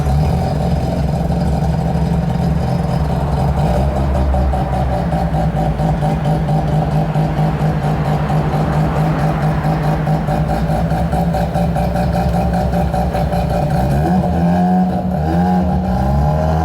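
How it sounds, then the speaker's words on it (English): A JDM car, among cars such as an R34, NSX and RX7, runs with a loud steady engine drone close by, shifting pitch near the end as it pulls away. "Can you turn back on, air up, and drive away?"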